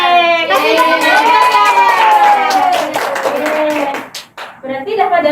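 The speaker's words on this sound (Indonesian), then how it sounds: "Oke, kasih tepuk tangan" A classroom gives brief applause during a microteaching lesson, with clapping mixed under children's voices and a sustained singing-like chant that dominates the moment.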